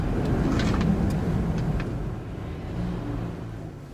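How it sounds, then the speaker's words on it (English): A truck stopped in the middle of a street gives a low engine rumble with passing traffic noise, fairly loud and steady and fading slightly toward the end, with no speech. "We got a truck stopped in the middle of the street."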